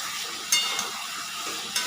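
Chicken sautéing in a pan, a steady close sizzle and hiss with two brief sharper scrapes of a spatula, no speech.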